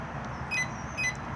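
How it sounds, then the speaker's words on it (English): Two short, faint electronic beeps about half a second apart over a quiet background hum, from a caravan alarm key fob signalling disarm. "2 beeps disarmed."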